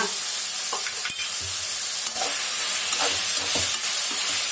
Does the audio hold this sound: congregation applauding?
no